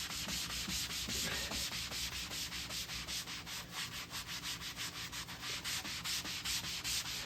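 Rapid rhythmic back-and-forth scrubbing on the textured laminate side of an arcade cabinet. The close, steady strokes continue for several seconds without a break or any speech.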